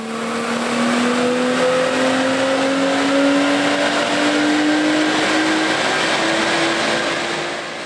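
Turbocharged car engine revving hard on a dyno with the air filter removed, a loud sustained run with the pitch climbing steadily across the whole stretch, dyno fan noise underneath.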